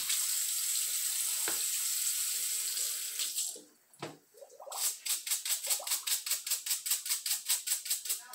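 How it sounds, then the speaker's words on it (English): Water runs from a tap over greasy bicycle parts being rinsed, a steady hiss that breaks off briefly with a few splashes, then returns as rapid rhythmic sloshing bursts. "Give it a good rinse."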